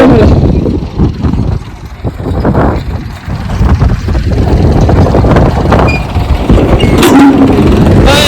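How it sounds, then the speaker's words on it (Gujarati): A loud, rumbling tractor engine approaches and roars nearby in a village, rough and windy against the microphone, with voices mixed in. "આપણું ટ્રેક્ટર આવી ગયું જો"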